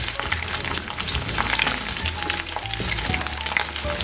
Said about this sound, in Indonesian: Untuk telurnya ya, satu kita orak-arik, yang telur yang kedua baru kita ceplok ya, kita orek-orek untuk campuran nasi gorengnya.